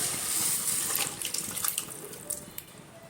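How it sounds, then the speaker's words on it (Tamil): Boiled raw-banana cooking water pours steadily into a pan close by, splashing and trickling before tapering into a few drips. "நம்ம வேக வச்ச வாழைக்காய் தண்ணியை சேர்த்துடலாம்."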